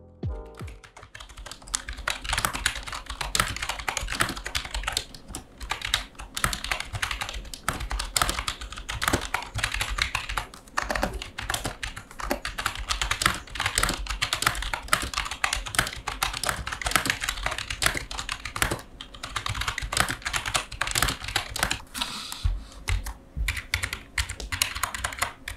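Steady, fast typing on an Armaggeddon AK-6770 membrane computer keyboard, soft muffled key taps in a continuous rhythm, close up and without speech.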